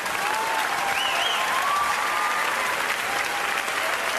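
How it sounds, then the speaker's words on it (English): Sustained audience applause follows a stand-up joke, a dense, even wash of clapping from a crowd holding steady throughout with a few whoops above it. "Applause break number 2."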